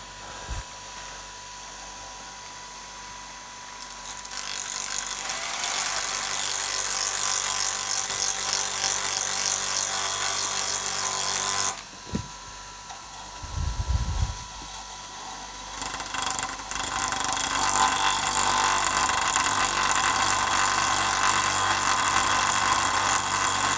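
A power drill whines loudly in long sustained runs, turning small parts for a David Brown 990 tractor hydraulic pump, cutting out briefly midway with a short low thump before spinning up again.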